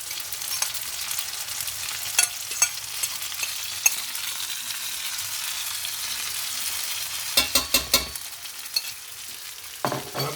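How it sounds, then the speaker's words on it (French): Cantonese fried rice with egg stir-fried in a pan, a steady close sizzle with scraping and clattering stirs, including a cluster of sharp knocks near the end. "On fait sauter un petit peu."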